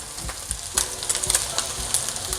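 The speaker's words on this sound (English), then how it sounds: "Once the oil is hot, you just want to fry the egg." An egg sizzles and crackles in hot oil in a wok, with scattered pops and a soft scrape of stirring close by.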